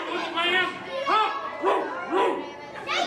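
A wrestler mimics a dog's barking during a wrestling event, voicing a run of about five yelping, whining barks in a steady rhythm, close and fairly loud.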